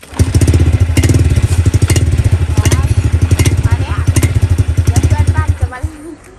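A Honda Wave 110i motorcycle engine starts and runs at a steady, loud, close putter with rapid even pulses, then cuts off near the end while a voice speaks over it.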